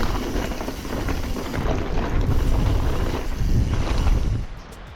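Strong wind roars across a mountain edge at a Llandegla trail centre, a loud steady buffeting rush against the microphone that swells and then drops away at the end.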